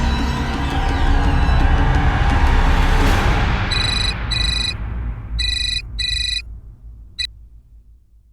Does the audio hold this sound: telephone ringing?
yes